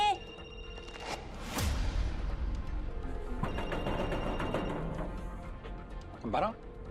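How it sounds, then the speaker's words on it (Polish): A mobile phone rings in muffled tones, partly obscured by nearby voices and shuffling movement. "Ofelio, słyszę twój telefon. Otwórz."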